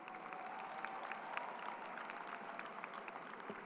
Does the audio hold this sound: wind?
no